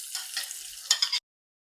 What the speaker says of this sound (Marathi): कांदे छान फ्राय करून घ्यायचे ह्याच्यामध्ये